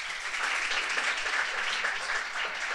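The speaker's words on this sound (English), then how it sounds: "They also deserve applause." Audience applause at a students' finance panel, steady and even for the full stretch, a dense wash of many hands clapping in a hall with no voices over it.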